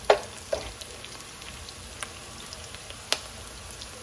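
Onions frying in a pan while being browned for biryani, a quiet, steady sizzle with a few sharp pops and crackles scattered throughout.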